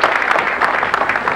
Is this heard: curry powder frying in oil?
no